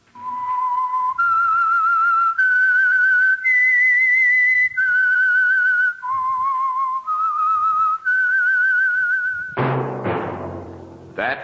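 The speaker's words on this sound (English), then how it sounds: "That whistle is your signal for the Signal Oil Program, The Whistler." Whistled theme tune of the Signal Oil radio show The Whistler, a clear solo melody of sustained rising and falling notes, ending with a brief ringing tone.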